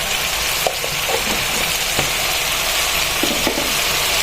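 Ground spice mix frying in oil in a pan for a dried baim fish dish, a loud continuous sizzle with occasional spatula scrapes and knocks, no voices.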